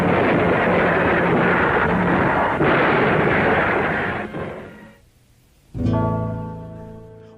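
World War II warship naval guns firing at night, a sustained thunderous roar of heavy gunfire that fades out, then one sharp, loud blast with a ringing decay.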